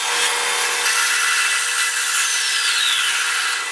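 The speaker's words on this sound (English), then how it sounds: "Let's go inside and cut that filter in half" A saw cuts steadily through an auxiliary fuel tank filter with an epoxied 140 mesh screen, a loud, continuous bright rasping grind that runs unbroken for the whole stretch; no one speaks.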